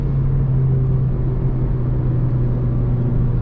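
Engine and exhaust of a 2008 Honda Civic Mugen Si under way, a constant low droning hum with road rumble from the cabin, even in level throughout and without voices.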